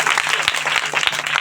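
A church congregation claps loudly together in praise, a brief burst of many hands striking in a quick, fairly even rhythm.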